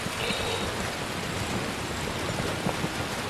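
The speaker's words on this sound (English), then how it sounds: "I'm getting rained upon." Steady rain falls in the video game Skyrim, a dense even hiss of drops spattering without pause, with no voices over it.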